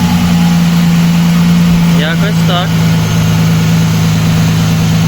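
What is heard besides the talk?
Audi A6 2.4 V6 engine idling after first start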